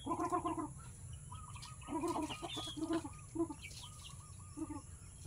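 Chickens on a small farm cluck and call in short bursts close by, a rooster-like squawk mixed with softer clucks and chirps, with gaps of quieter farmyard background between them.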